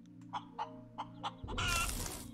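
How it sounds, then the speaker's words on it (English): A chicken in the space survival game Breathedge gives four short, evenly spaced clucks over a low steady hum, then a loud burst of noise takes over. "Alright, come here, chicken."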